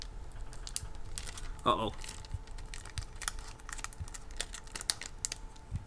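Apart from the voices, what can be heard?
slowly peeling decals off a foam airplane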